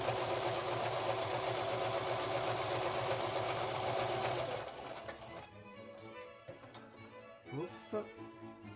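A home sewing machine stitches a zipper, a loud, steady buzzing hum for several seconds before it stops, followed by quiet handling noises and a brief voice.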